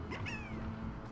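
A maneki-neko, the Japanese lucky cat, gives a single short meow in the video game Slime Rancher, heard alone over a steady low background hum.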